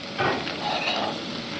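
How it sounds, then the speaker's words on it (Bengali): Garlic and capers fry in a pan for a pasta puttanesca sauce, making a loud, close, continuous sizzle with a brief surge of crackling early on. "একটু ভেজে নিব হালকা"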